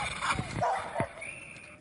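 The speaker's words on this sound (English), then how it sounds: "Those dogs barking." Dogs bark in short, loud bursts close by at an outdoor race course where a crowd gathers, with a couple of sharp yips and whimpers between the barks.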